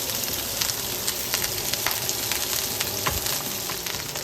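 Rice fries in a pan with sautéed peppers and onions, a steady moderate sizzle dotted with small crackles and pops.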